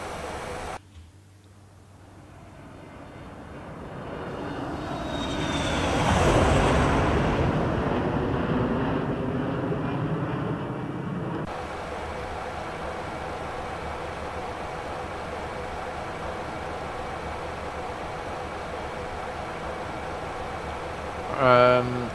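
Boeing 737-300 jet in the X-Plane 11 flight simulator making a flyby, its engine roar swelling to a loud peak midway and then fading into steady wind-like noise.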